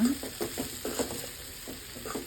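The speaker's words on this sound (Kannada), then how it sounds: "ಸ್ವಲ್ಪ ಮಿಕ್ಸ್ ಮಾಡ್ಕೊಳ್ಳೋಣ." Okra (bhindi) fry sizzles in a pan while a utensil stirs it in steady, rhythmic scrapes, close and fairly quiet, with no talking.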